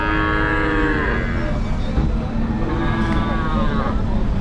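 Cattle at a roadside livestock market in Vaniyambadi let out two long, loud, close moos, one after another, over a busy bed of traffic and crowd noise.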